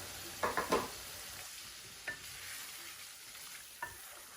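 Potatoes frying in a pan with spice paste, stirred now and then: a faint, steady sizzle broken by a quick cluster of scraping stirs and a couple of single scrapes.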